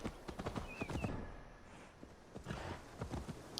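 A horse's hooves clip-clop at a walking pace in Assassin's Creed Valhalla, a steady, fairly faint rhythm with a short whinny-like tone early on.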